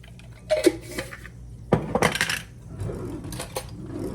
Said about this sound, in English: Give that a good mix up, and then I'm just gonna leave it stay on the stove on low